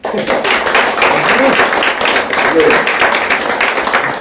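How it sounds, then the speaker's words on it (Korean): Audience applauding at a political party meeting, brisk continuous clapping from a modest group in a room, fairly loud and close, with some murmured voices mixed in. "박수 한번 해주세요."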